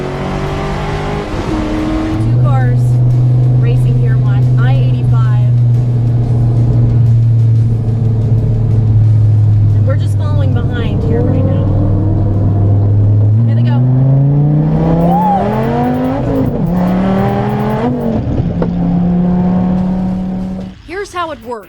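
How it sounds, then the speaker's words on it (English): Two cars street racing on interstate I-85, engines droning and climbing in pitch as they accelerate and pass, loud and close, with someone narrating over the roar. "Two cars racing here on I-85."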